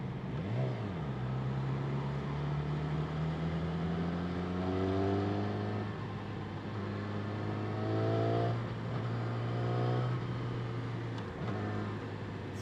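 Engine of a 2016 Yamaha R6 motorcycle revving while riding, loud and close, with a steady drone whose pitch rises through gears in repeated climbs and drops, continuous throughout.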